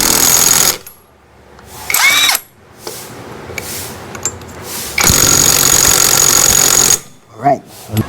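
A torque drive power tool runs in loud bursts while tightening the rear axle on a Yamaha Mio i 125 scooter during a bearing replacement, its whirring buzzes broken by short pauses and some talking nearby.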